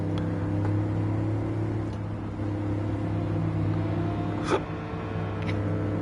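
Toyota Tundra TRD Pro engine in Gran Turismo 7, a steady low droning engine hum with layered tones held at an even level throughout, and one brief sharp swell near the end.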